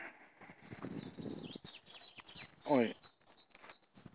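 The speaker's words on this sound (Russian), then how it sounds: "птички поют." Small birds chirp outdoors near a barbecue where shashlik is grilling, their calls faint and scattered, with one brief louder trill, while a person talks close by.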